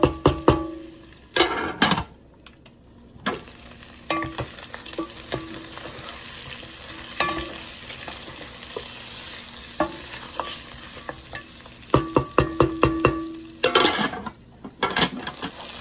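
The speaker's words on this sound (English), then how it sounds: "we're gonna stir these around and let these cook too so they can get some color on them." Food sizzles and fries in a lidded pan while a utensil stirs and scrapes it around, with clusters of loud clanks and scraping in bursts and a steady frying hiss underneath.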